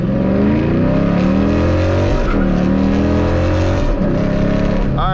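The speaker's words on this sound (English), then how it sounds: "A dig race just starting from a standstill" A 6-speed manual Dodge Challenger revs hard from a standstill, its loud, continuous engine note climbing and dropping through gear changes as it pulls away, up close and steady throughout.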